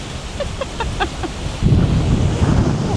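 Strong storm wind on a seashore roars and buffets the microphone, growing louder and heavier partway through, with a few faint higher chirps early on.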